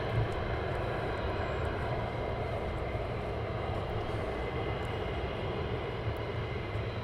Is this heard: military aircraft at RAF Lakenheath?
yes